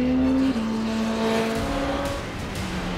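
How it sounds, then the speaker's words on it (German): Porsche 919 Hybrid race car at around 900 horsepower, driven hard in race mode, its steady high-pitched engine and hybrid whine loud and close throughout, with shifts in pitch as it accelerates. "Er will mit dem 900 PS Boliden im Rennmodus fahren."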